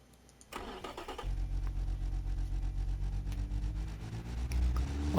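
A large inline-six engine in the car-building game Automation cranks over and catches, then settles into a steady, rhythmic running note that swells a little at the end.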